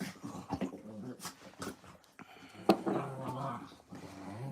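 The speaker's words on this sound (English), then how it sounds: "All the dogs are excited this morning and happy." Excited dogs whimpering and yipping in short, irregular bursts during morning play, close and fairly quiet, with some rustling and movement.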